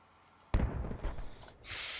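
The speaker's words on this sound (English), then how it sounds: "He blew up. And the heli blew up." An explosion in the military shooter game Squad as a helicopter blows up: one sudden loud blast with a rumbling decay, followed by crackling debris and a steady hiss of game noise.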